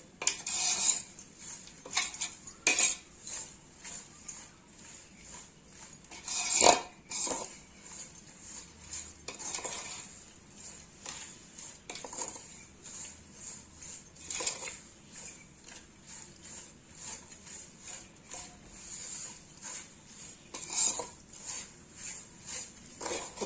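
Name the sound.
stirring herbs into oil for homemade herbal hair oil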